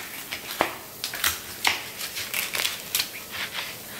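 A knife cracking through crisp roasted pork belly skin, a series of sharp crunchy snaps and crackles at an uneven pace, close and clear with no talk.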